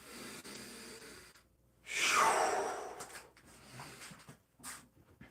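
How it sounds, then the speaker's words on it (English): One long, breathy inhale during a freeform tai chi movement session, close and fairly loud, rising and then slowly fading, with softer breaths and faint rustles around it. "Breathing in, focusing on footwork"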